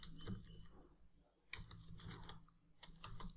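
Quick clicking keystrokes on a computer keyboard as a search is typed into a website search box, a fast irregular patter of light taps, close but quiet, with no talk.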